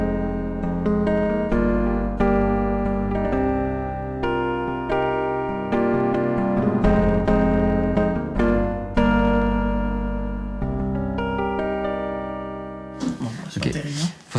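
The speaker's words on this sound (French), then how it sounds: "Ça, c'est le son de piano d'origine du MT32." Piano preset on a Roland MT-32 synthesizer plays sustained chords and notes whose soft, attack-less tone sounds like an electric piano, with a brief burst of talking near the end.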